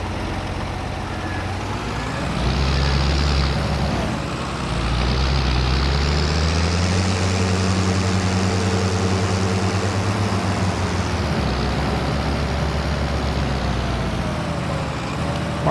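Trucks and cars in heavy in-game traffic in Farming Simulator 22, a steady loud engine drone with low rumbling passes swelling and fading, no talk over it.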